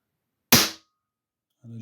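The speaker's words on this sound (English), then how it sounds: "as you see, quite an amount of CO2 being released" A Walther CP3 Match MV .177 single-shot CO2 target air pistol fires once with a sharp, loud crack and a brief hiss of released gas, then silence before a voice starts speaking.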